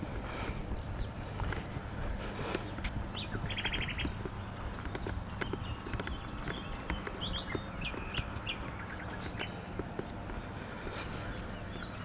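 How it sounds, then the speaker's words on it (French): Small birds chirp outdoors during plant gathering, their faint scattered tweets sounding at a distance over steady low ambient noise. "Vous entendez, petits oiseaux?"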